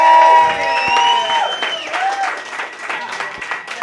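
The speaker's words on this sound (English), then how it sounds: "Give yourselves a round of applause." A comedy club crowd at a roast battle show claps and cheers, loud at first with whoops and shouts over the clapping, then thinning out over a few seconds.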